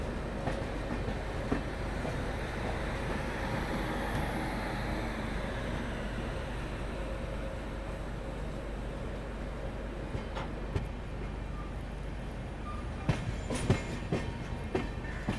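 A train rolls slowly into Santragachi railway station toward platform one, a steady rumbling roar of wheels and carriages throughout with faint clatter and a few sharp squeals or clicks near the end.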